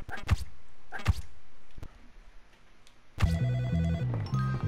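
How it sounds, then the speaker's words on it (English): A telephone rings twice in the video game Bully, two short separated bursts, before game music and sound effects take over; no talking. "Let me answer the phone."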